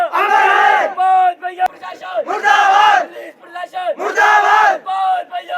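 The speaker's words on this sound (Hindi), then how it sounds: "ग्रामीणों ने पुलिस की कार्यप्रणाली को भी गलत करार देते हुए डलहौजी पुलिस के खिलाफ डलहौजी पुलिस मुर्दाबाद की जमकर नारेबाजी की" A crowd of villagers blocking a road chants slogans against the Dalhousie police, a leader's shouted call answered by loud unison shouts in a repeating rhythm of three rounds, close and forceful.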